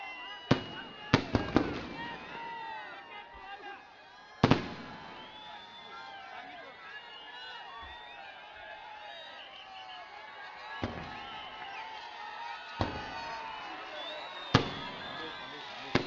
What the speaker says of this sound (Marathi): कृपया फटाक्यांची आतषबाजी बंद करा.